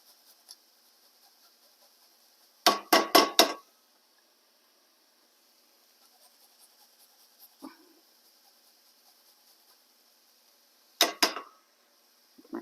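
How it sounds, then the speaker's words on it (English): Garlic cloves grated on a kitchen grater, two short bursts of quick rasping scrapes separated by quiet, with a faint clink in between, close and fairly loud against a silent background. "2 cloves of garlic, and I just use this to grate it in."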